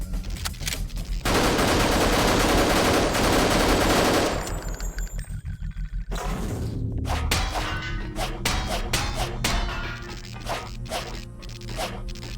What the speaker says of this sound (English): Told you this fucking thing fires like a machine gun.